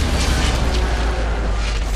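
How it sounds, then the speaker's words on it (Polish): A powerful explosion replayed in the racing game Split Second, a loud continuous booming rumble with crackling bursts that fills the whole moment. "Była jakaś powtórka akcji, bo użyłem tego mocnego wybuchu."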